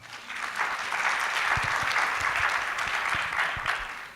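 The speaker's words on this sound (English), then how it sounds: "Please clap for the ladies." Applause from the audience at a youth forum, building quickly into a full, steady round of clapping with some low thumps mixed in, holding evenly to the end.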